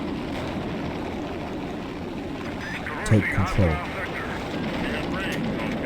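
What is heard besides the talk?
helicopters flying in the video game Urban Assault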